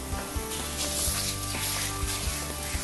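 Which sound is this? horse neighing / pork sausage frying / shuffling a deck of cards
pork sausage frying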